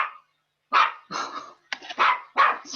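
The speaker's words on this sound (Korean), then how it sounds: "심하게 짖네요." A dog barks hard and close in a series of about five sharp, loud barks with short gaps between them, and no talk over it.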